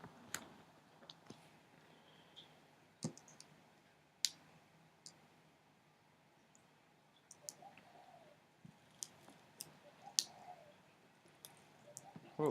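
Sparse, sharp single clicks of a computer mouse are scattered over a quiet background, close to the microphone, with longer gaps between them while someone sets up a Bukkit server on a Mac.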